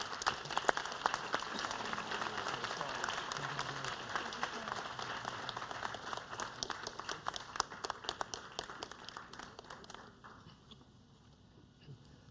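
Audience applause at an academic excellence ceremony, a dense wash of clapping that runs steadily for about ten seconds, then thins and fades near the end.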